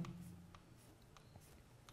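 Chalk or marker writing numbers on a board during a math lesson, a few faint, short taps and strokes spaced out over quiet room tone.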